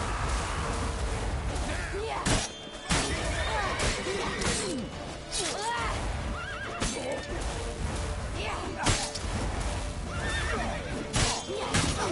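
A horse neighs repeatedly in a combat-heavy video game, whinnies rising over clashing hits, swishes and hoof clatter, with a player's voice talking over the noisy action.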